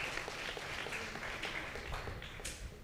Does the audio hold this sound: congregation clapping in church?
yes